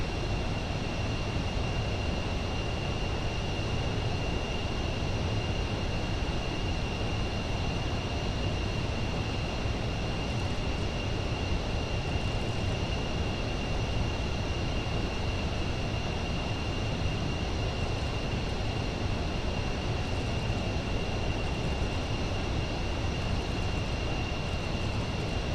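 Aircraft engine droning steadily in flight during a charter flight in the game Last Chance Charter Service, a constant even hum with a thin high whine held throughout, with no talk.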